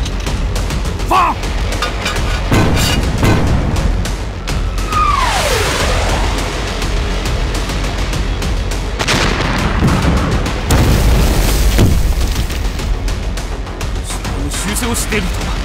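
Heavy artillery fire and explosions in a war film battle at an enemy artillery base, with booming blasts and rumbling impacts, a descending whistle of an incoming shell, and shouted voices over the din.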